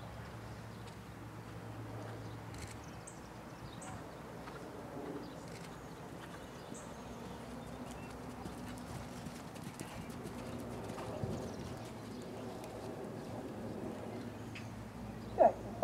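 A horse being ridden during a riding class, hooves clip-clopping at steady distance under a quiet ambient background, with occasional bird coos nearby.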